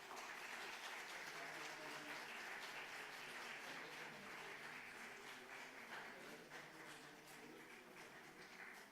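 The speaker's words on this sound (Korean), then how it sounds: "자, 박수 부탁드리겠습니다." A church congregation claps during a pastor's installation and ordination ceremony, a soft, distant, sustained wash of applause that stays even and gradually fades slightly toward the end.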